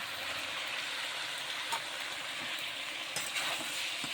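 Raw mango and potato pieces being stirred in a frying pan with onion and chilli, giving a steady close sizzle with a few soft scraping stirs and no talking.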